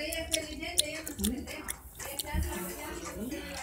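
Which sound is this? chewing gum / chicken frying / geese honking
chewing gum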